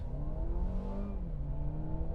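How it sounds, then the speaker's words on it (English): A 2020 Mercedes-Benz CLA250 accelerates, heard from inside the car as a steady engine drone whose rising harmonic tones climb and then drop back as the revs change. "A little bit of engine note there, I don't know if you heard it."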